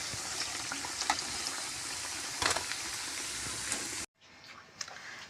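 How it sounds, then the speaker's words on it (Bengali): Flattened rice (chira) snacks frying in hot oil give a continuous close sizzle with occasional stirring clicks, cutting off abruptly into a quieter, fainter stretch near the end. "তারপর আমি উল্টে পাল্টে ভালো করে এগুলো সবই ভেজে নেব"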